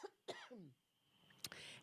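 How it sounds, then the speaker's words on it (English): A single person coughs twice in quick succession, close and fairly loud, followed by a brief quiet and another short cough. "I'm going to cough"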